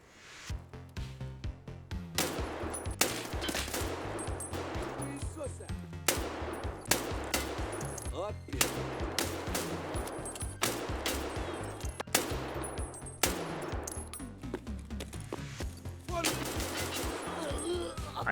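Sustained bursts of automatic fire from a 5.45 AK rifle in the Escape from Tarkov video game, loud and dense across the whole stretch with repeated heavy cracks and short gaps.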